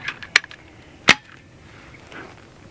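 A BIN TAC S45 semi-auto air rifle fires two sharp, close cracks about three-quarters of a second apart, with a few faint clicks and a quiet background between them.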